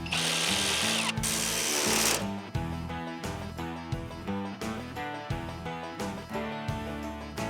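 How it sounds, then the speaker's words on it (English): A power tool drives bolts on power running boards fitted to a 2024 Toyota Tacoma, a loud whirring burst followed by repeated short buzzing pulses and ratcheting clicks, close up, with a faint mechanical hum beneath. "tighten these bolts down"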